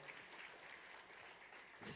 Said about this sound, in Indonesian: Tepuk tangan bagi 4 kawan kita, saudara.